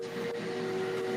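A video-game steam locomotive whistle holds one steady, sustained tone over a wide, hissing background, fairly loud and unbroken for the full second.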